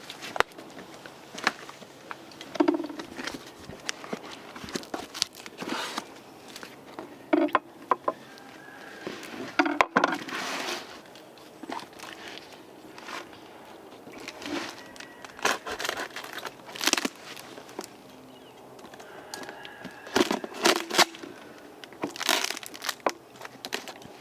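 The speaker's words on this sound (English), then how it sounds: "we're going to be using our epic unboxing knife. So anyway, we'll get this thing cut open" Cardboard box being cut open with an unboxing knife, with irregular bursts of scraping, tearing and crinkling packaging close by, separated by short quieter pauses.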